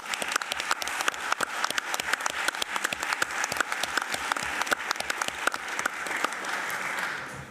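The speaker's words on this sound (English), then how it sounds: "we should give a round of applause to our moderator, Cecilia Garme, and the panelists" Audience applause at a conference on democracy in Europe, honoring the moderator and panelists: dense, even clapping sustained from start to finish, heard from a moderate distance and without a break.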